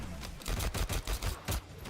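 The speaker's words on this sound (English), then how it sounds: "Gunshots." Rapid bursts of gunfire in a Mortal Kombat 1 fighting game match, a quick series of loud sharp cracks in an uneven rhythm with no talk over them.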